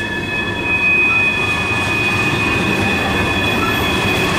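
A CSX Q693 freight manifest train climbs the hill near Spruce Pine, a loud continuous rumble of rolling railcars with steady high wheel squeal running throughout.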